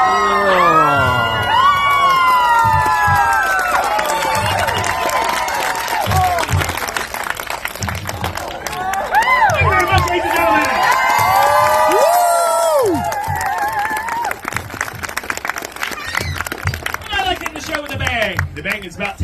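A large audience at a sword swallower's show at a Renaissance fair claps and cheers loudly, with whoops and excited shouts rising and falling over about twenty seconds.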